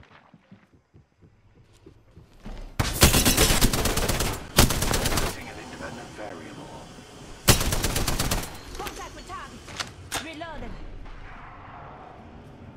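Bursts of enemy gunfire in the Apex Legends battle royale video game, several loud sustained volleys of automatic fire with shorter cracks between them over game sound effects.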